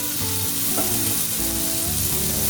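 Vegetables for a pasta sauce sauté in a hot pan with a continuous loud sizzle and steady stirring scrapes throughout, heard close and alone.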